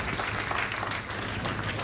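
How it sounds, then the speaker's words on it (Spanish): Steady applause from an audience at the pre-opening ceremony of the 2017 CARIFTA Games, a dense, continuous clapping that fills the whole stretch with no voices on top. "Acá nos recibe con un fuerte aplauso"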